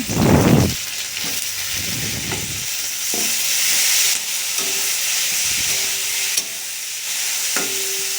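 Chopped tomato hits a pan of frying chili, onion and garlic and is stirred, bursts of loud spatula scraping over a constant hissing sizzle, close by.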